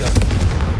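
Confringo explosive spell firing in Hogwarts Legacy on PlayStation 5, a single short booming blast, loud and close, with a crackling, gunfire-like punch.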